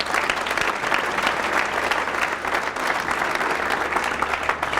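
Dense, sustained applause from an audience at a community schools address, steady and loud throughout with no break, the clapping of many hands blending into a continuous wash.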